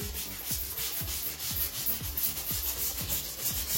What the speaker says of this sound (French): cette petite brosse à joints, elle est géniale. Ça vous permet de nettoyer comme ça les joints.